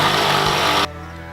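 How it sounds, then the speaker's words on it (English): A drill bores out a metal part during a Jeep 3-link suspension install, making a short, close, whirring burst that cuts off abruptly after under a second, leaving a low hum. "I'm gonna drill this out with my handy dandy safety glasses on"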